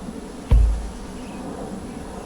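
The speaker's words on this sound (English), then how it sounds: "all these bees behind me here think I'm just blocking their entrance." Honey bees hum faintly and steadily around the entrance of a hive during a brood box inspection, with a low thump against the hive or gear partway through and no talk.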